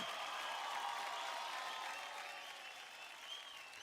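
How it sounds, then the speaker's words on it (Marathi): Loud, sustained applause from a studio audience at a televised Marathi dance competition show, a steady dense wash of clapping that eases slightly toward the end. "जोरदार टाळ्या"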